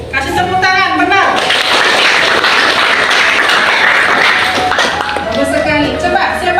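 A classroom of students breaks into sustained applause, a dense crowd of clapping hands filling several seconds at close range before tapering off, with a teacher's voice speaking around it.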